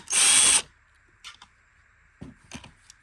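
Cordless power drill backing screws out of a Bissell CleanView Rewind Pet vacuum: one loud high whine lasting about half a second, followed by soft clicks and handling taps of the plastic housing.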